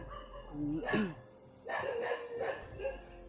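A dog barks a few times at a distance, faint yips mixed with low background noise and a steady hum.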